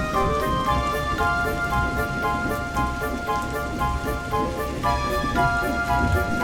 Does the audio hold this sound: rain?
yes